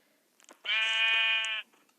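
A single sheep bleat from the Minecraft video game, clear and close, holding steady for about a second with no talk around it.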